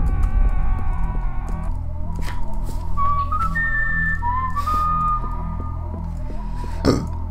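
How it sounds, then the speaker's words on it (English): A short melodic whistled tune in the video game Serious Sam plays over a steady low electronic hum and rhythmic background, ending with a brief burst of noise. "that was a whistle to Indiana Jones"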